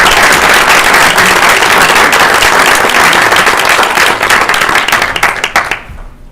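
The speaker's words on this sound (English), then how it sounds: "Hopefully you join me in a round of applause." A school board meeting audience applauds in a sustained, loud burst of many hands clapping, holding steady before tapering off and fading out near the end.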